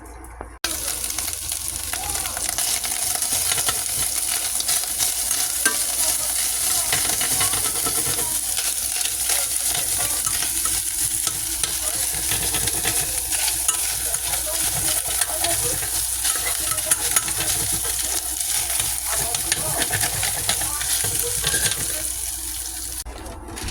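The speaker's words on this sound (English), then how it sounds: "Get that hamburger cooking" Hamburger meat frying in a pan, a loud steady sizzle with a high hiss running unbroken for over twenty seconds, with occasional soft stirring scrapes and no talking.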